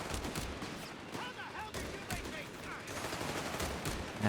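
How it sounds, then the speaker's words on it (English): Heavy machine gun fire in the video game Company of Heroes 3 rattles in rapid bursts amid scattered battlefield gunshots, with a voice talking over the steady combat din. "Heavy machine gun doing a number on these units here."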